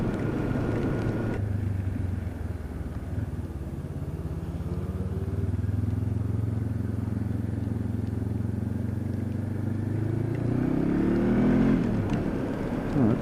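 Motorcycle on Shinko 705 tyres accelerating out of roundabouts on a wet road, engine note rising and falling through repeated pulls under steady wind roar, heard from the rider's position.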